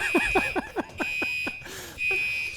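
A fire alarm in a studio building, set to be quieter, sounds as a continuous shrill tone, with a run of rapid descending chirps over it, fairly close and without talking.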